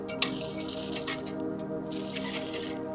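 Water gushes and splashes steadily from an old hand water pump at a mountain trailside, a continuous wet trickle with a few sharper drips and squishes.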